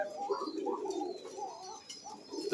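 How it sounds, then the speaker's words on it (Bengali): A female pigeon coos softly and repeatedly at close range on a pigeon farm, a low rolling call with short pauses between phrases. "এটা হচ্ছে মাদি কবুতর"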